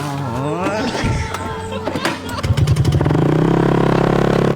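A motorcycle engine revs and idles nearby in Siquijor, steady and buzzing, with people talking and shouting over it and some clattering early on.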